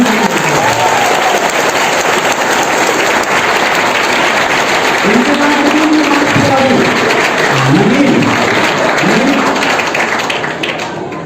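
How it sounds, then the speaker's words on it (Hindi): An audience applauds at a one-day district youth conference in India, a loud, sustained roar of clapping filling the hall, with a voice briefly calling out over the clapping. "सिमरी के नाम पे इतनी कम तालियां"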